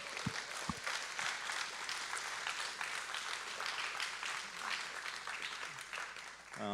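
A room of 150 to 200 people claps at the close of a Rust and Ethereum tech conference session, a dense, steady wash of applause that carries on throughout.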